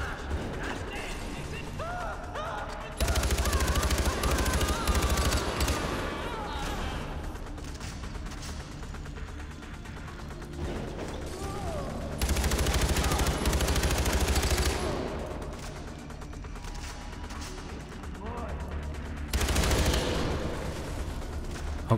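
Gunfire in the shooter Far Cry 4 comes as loud bursts of rapid shots in several clusters over a constant background rumble, while someone talks in German between the volleys.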